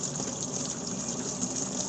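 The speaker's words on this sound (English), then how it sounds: "I'm going to start my machine, and now the basket's going to come forward and scoop up the water." An ice maker's basket swings forward and scoops up warm rinse water during a cleaning cycle. It makes a steady, close gushing and sloshing wash with no break and no voices.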